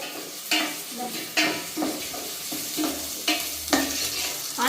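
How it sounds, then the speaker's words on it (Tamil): Onions sauté in a pan on a home stove, a steady sizzle broken by rhythmic scraping strokes of a spoon stirring every second or so, close and clear with no talking. "வெங்காயம் கொஞ்சம் வதங்கி கொண்டு வருது"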